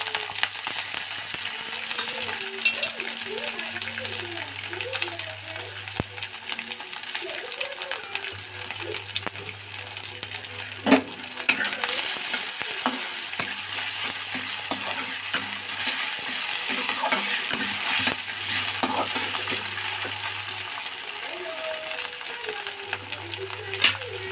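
Potato, carrot and peas fry in a pan for poha, giving a steady sizzle broken by repeated scraping stirs, with a low hum running underneath.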